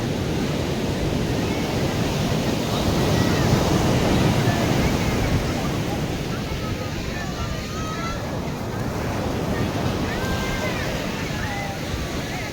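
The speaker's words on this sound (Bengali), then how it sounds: "অত্যাধিক লেভেলের ঢেউ চলছে" High sea waves crash on Puri beach in a continuous loud roar of surf, with wind buffeting the microphone throughout.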